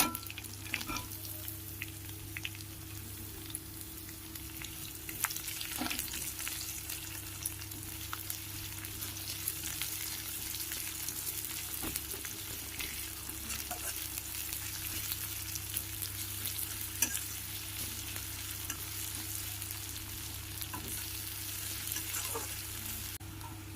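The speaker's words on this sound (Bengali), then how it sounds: "রসুন ভাজা হয়ে গেছে, এবার কুচিয়ে রাখা পেঁয়াজ দিয়ে দেব" Chopped onions fry in a pan for a Bengali kochur loti dish, producing a long, continuous sizzle with occasional sharp spatula scrapes and stirring clicks, close and even, with no speech.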